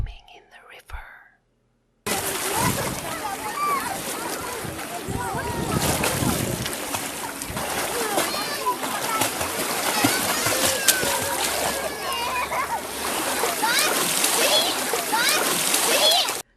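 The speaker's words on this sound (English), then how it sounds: "He's swimming in the river" Water splashing and churning as a boy named Max swims in a river, a steady close wash of splashes and lapping that carries on without a break after a short quiet opening, with faint whispery voices.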